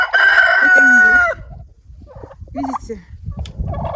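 A rooster crows loudly and close for about a second, then hens cluck and murmur around a farmyard, with someone speaking briefly among them.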